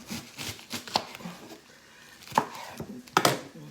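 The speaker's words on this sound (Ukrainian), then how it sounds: "і будемо різати нашу капусту" A knife chops cabbage on a cutting board at home while buckwheat soup and a cutlet lunch are made. Uneven taps come in two quick bursts with a pause between, close and fairly quiet.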